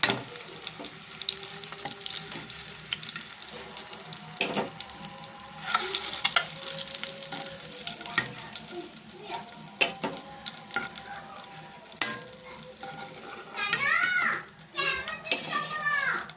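Onion and curry leaves fry in hot oil in a home kitchen pan, a steady sizzle with scattered clinks and stirring scrapes, while children's voices and chatter run intermittently in the background.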